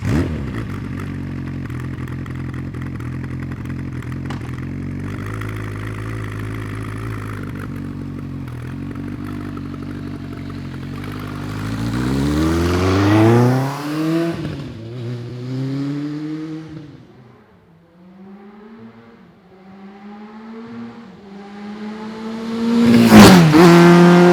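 A Honda CB900 cafe racer motorcycle, ridden with no rear brake, idles roughly, then revs and accelerates away. The engine fades into the distance and swells back up close and loud at the end.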